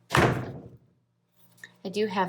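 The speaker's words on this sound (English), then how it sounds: "My door just slammed because of the wind, and it scared me." A door is blown shut by the wind with a single loud, close bang that rings and fades over about half a second, and a voice starts talking shortly after.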